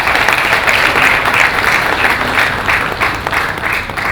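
Sustained, loud audience applause fills the room at a cultural celebration, a dense even wash of many hands clapping without pause and no voices above it.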